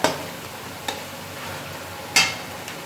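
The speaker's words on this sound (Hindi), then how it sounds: "अब मसाले को हमने अच्छी तरह भूनना है। ये देखो ये घी छोड़ने लगा।" Masala with chopped tomatoes fries in ghee in a pan, a soft steady sizzle broken by a few sharp clinks of stirring, fairly quiet and close.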